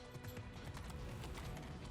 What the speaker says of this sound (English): He looks like a horse of some kind.